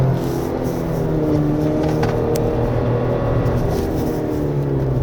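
A 2025 Chevrolet Colorado Z71 engine held at high revs on a winding mountain road, a sustained loud drone with slight pitch shifts heard from inside the cabin, with no other sounds over it.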